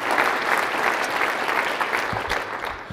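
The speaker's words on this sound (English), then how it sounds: "So give Lynn a round of applause as well." An audience at a downtown civic address by a mayor applauds, with dense, sustained clapping that holds steady and eases slightly near the end.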